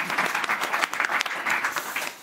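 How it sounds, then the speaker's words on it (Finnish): An audience applauds as panelists are introduced at a panel event, a dense, sustained round of clapping from many hands, loud and continuous throughout. "Aplodien kera."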